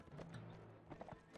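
Horse hooves clip-clop in Mount & Blade: Warband, a soft, rapid patter of hoof strikes under faint game ambience, quiet and without speech.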